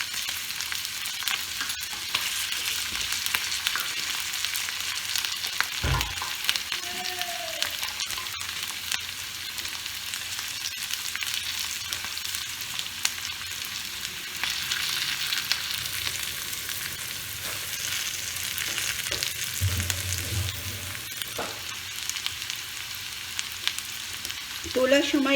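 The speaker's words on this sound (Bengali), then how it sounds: "দেখুন আমার বিনসও ভাজা ভাজা হয়ে এসছে" Green beans fry steadily in hot oil for a bean and potato curry, giving a continuous close sizzle with occasional stirring knocks and scrapes. No one speaks.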